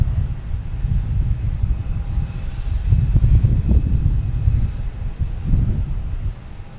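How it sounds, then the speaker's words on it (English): A JetBlue Airbus A320 takes off at Boston Logan Airport, its engines a steady low rumbling roar at moderate distance that swells slightly midway, mixed with some wind, no voices. "next to the takeoff is a JetBlue heading to Nashville, an A320, flight 507"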